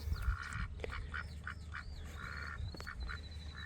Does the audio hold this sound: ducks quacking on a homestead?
yes